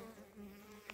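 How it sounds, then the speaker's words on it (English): Honey bees at their hive give off a close, continuous, dense buzzing hum, steady and fairly quiet, with one wing passing briefly nearer. "The bees, they are here."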